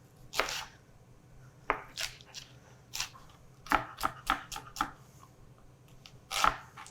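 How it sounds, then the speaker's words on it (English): A kitchen knife minces an ingredient on a board for a salad dressing for a green bean and corn salad: close, crisp chopping taps arrive singly and in quick clustered bursts over a quiet background. "I like to do little slits in it so that it's minced in the dressing, not big chunks of it."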